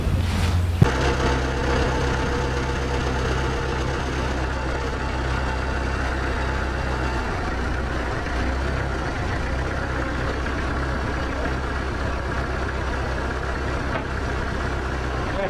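Tractor engine idling steadily while helping straighten a bent gooseneck trailer frame, a low continuous rumble with a sharp clunk near the start, then constant mechanical drone throughout.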